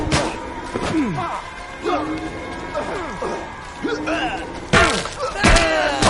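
Bombing explosions in the game We Happy Few, with heavy thuds and bangs striking at intervals and two louder blasts near the end, heard under frequent shouting voices.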